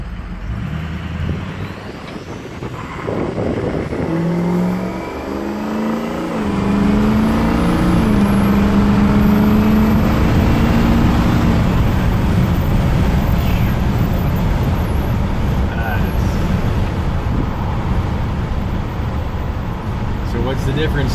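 Outdoors on a warm, breezy day, the 6.0L Powerstroke diesel in a 2004 Ford F250 runs steadily at close range, a loud sustained engine drone with a brief rise in pitch early on, then an even idle.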